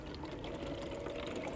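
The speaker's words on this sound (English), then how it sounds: "Can you see the motor spraying water up?" Electric motor of an Enduro Bushido RC crawler running while sitting in water, a steady whirring buzz mixed with continuous churning, splashing spray, fairly close.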